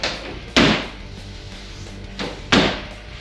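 A BAK Revolver X4S truck bed cover on a 2023 GMC Canyon/Chevrolet Colorado closes with sharp, close thuds, one single hit followed by a softer knock and a second loud slam about two seconds later.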